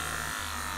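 A battery-powered electric shaver used for cutting hair runs low on charge, giving a steady, close motor buzz with a brief stutter partway through.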